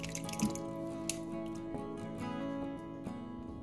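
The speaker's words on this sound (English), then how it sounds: "My pasta is done cooking, so I'm just going to drain the water off of it." Cooked spaghetti being drained of its water at home, with a steady liquid flow punctuated by drips and small splashes against a sink, close and continuous, no talking.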